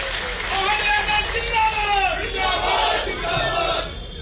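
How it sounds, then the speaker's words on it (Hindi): A political rally crowd in Morena, India, with many voices shouting and chanting together in a loud, wavering roar of cheering that swells and dips over a few seconds. "जोरदार ताली बजा दो।"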